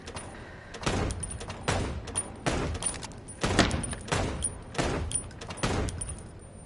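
Gunfire at a shooting range in the video game Chicken Police: about six loud bursts of shots in an uneven rhythm, each followed by a short decay, over a low background.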